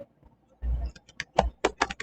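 Someone typing code on a computer keyboard during a Flutter app tutorial: a short run of close, crisp key clicks at an irregular pace, preceded by a brief muffled thump.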